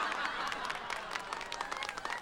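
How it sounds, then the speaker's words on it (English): In-game audience applause in the Legend of Legaia video game: a steady wash of clapping that fills the whole short stretch at even volume, with no voices. "The audience has never applauded this much."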